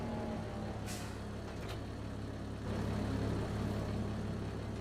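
A truck in the Farming Simulator 25 video game drives with a steady low engine drone, joined by a brief hiss like an air brake release near the start, staying loud and even throughout with no talking.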